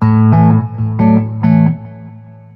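Sustained electric guitar chords through a Boss Katana amp with a delay effect, struck in a steady pattern, each strum trailing off into echoing repeats that fade out at the end.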